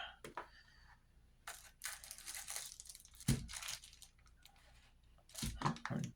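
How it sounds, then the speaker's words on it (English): Paper crinkles and rustles close by in several short, irregular bursts, with quiet stretches between them and a louder crumple near the end. "There's my paper."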